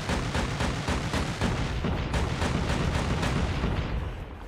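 Dense, sustained gunfire and explosive bursts from a Call of Duty Mobile match, loud and continuous with rapid repeated impacts throughout, no voices over it.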